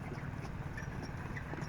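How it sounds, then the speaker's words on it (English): Horses jog around a county fairgrounds track near the grandstand in Portland, Indiana. Their hooves clip-clop faintly and steadily at a distance, under a low murmur of outdoor background noise. "Jogging the horses."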